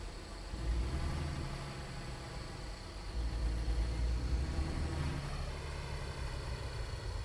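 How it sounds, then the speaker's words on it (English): Crickets chirp in a steady high-pitched trill, fairly faint, over a low engine-like rumble that swells partway through, with no voices. "Can hear the crickets."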